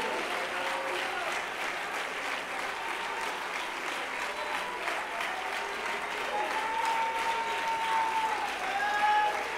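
Church congregation clapping hands: dense, sustained applause from a crowd, steady and fairly loud throughout, swelling slightly toward the end, with voices mixed in.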